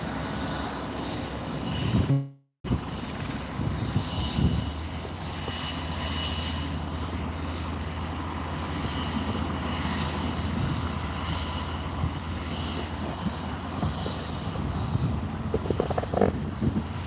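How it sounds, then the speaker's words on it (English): A helicopter rotor runs at Barton Aerodrome, a steady droning whir with a deep engine hum that holds at a fairly constant level, broken by a brief dropout early on. "Got that helicopter still rotoring"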